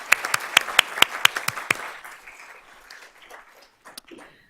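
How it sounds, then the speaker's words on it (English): A short burst of applause, with sharp individual claps ringing out loudly at first and then thinning into scattered clapping. "let's give her a round of applause"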